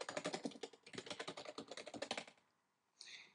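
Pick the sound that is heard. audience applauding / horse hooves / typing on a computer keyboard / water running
typing on a computer keyboard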